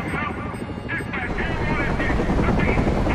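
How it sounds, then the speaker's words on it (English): Helicopter in the video game Batman: Arkham Origins, a steady loud rotor drone with rhythmic chopping that holds throughout, with a voice talking over it. "That's it, the helicopter."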